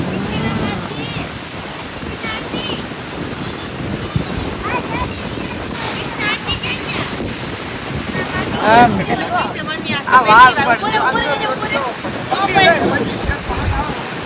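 Rushing surf and crashing water on a beach in Wales beside a waterfall, mixed with gusty wind buffeting the microphone and people talking over it.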